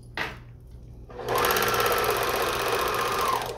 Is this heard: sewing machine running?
yes